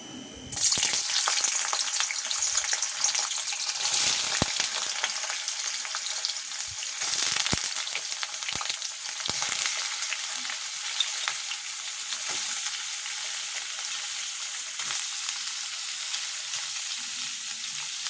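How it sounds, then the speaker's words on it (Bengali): Paneer fries lightly in hot oil in a kadai, giving a loud, dense sizzle that starts abruptly and crackles steadily and close up, with occasional louder spits and a few faint knocks. "আগে পনিরটা আমি হালকা করে ভেজে নেব"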